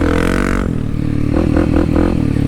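Dirt bike engine held steady in second gear on a trail, a loud continuous drone with low throttle pulses and small rises in revs, close up and alone.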